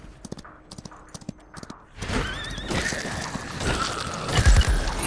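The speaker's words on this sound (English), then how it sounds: "You can run over things with your horsey" Hooves clip-clop steadily as a horse is ridden in the Far Far West video game, quiet tapping at first, then louder galloping over rumbling game noise with a brief heavy thud near the end.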